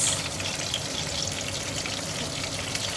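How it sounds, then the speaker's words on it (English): Fish frying in a pan for escabeche, a steady, dense sizzle that carries on without a break and with no talk over it. "My fish is cooking really well in there."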